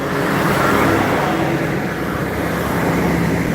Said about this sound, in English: Ooh, yeah, you've got to watch these cars.